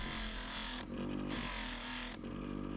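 Fine 800-grit sandpaper rubs over a hand-turned wooden sphere in a steady, close, continuous scratchy hiss, briefly dipping twice as the stroke pauses, with a low hum running underneath and no talking.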